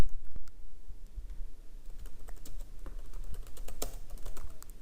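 Typing a message on a computer keyboard, with irregular close clicks and a few sharper key strikes spread across the stretch, no talking.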